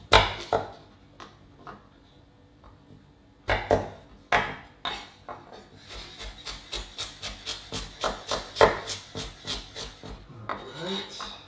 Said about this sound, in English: Chop, chop. Alright, one more. So there's 3 carrots here.